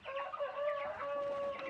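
Chickens and Chantecler roosters cluck and call continuously, a busy overlapping chorus of fowl close by indoors with no talking.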